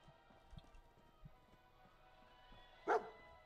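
Dogmeat, the dog companion in the video game Fallout 4, gives one sharp bark near the end after a few soft thuds and quiet in-game ambience.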